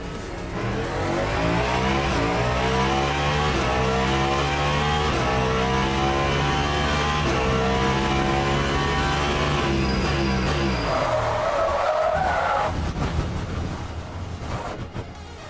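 A hypercar on fresh tires howls through the Le Mans Ultimate racing game, a loud sustained engine drone that climbs through the gears, then drops away as the car lifts off near the end.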